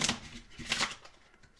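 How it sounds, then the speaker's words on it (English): A deck of Gypsy Witch fortune-telling cards shuffled close by in two quick riffling bursts, soft and papery, with no voices. "You will shuffle the cards again,"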